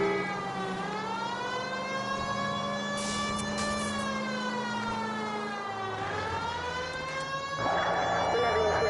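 Police siren wailing continuously in the video game L.A. Noire, a rising and falling electronic tone held steady and loud throughout, with a brief burst of crackly noise near the end.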